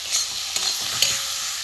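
A spiced filling mixture with coriander, cumin, salt, turmeric and chilli powder frying in a pan, a steady close sizzle broken by a few sharp scraping stirs.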